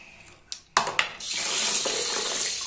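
A tap turns on after a few clicks and knocks, and water then runs steadily and loudly into a basin as a toy baby doll is washed.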